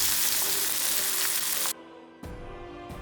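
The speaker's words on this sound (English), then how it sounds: "And saute it until it turns a little tender, a kind of little translucent but not golden brown." Food sautés in a hot pan, a loud steady sizzle that cuts out abruptly, pauses briefly, then resumes, with no voices.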